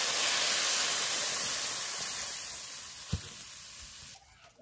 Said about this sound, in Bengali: আমার মশলা কষানো হয়ে গেছে, আমি এর মধ্যে দিয়ে দেবো পরিমাণ মতো জল।